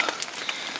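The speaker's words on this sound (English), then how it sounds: "Keep the rain off of it a little bit." Rain falls steadily on outdoor surfaces during a practice burn, a soft continuous hiss with a few scattered louder drop splats, close by and with no talking.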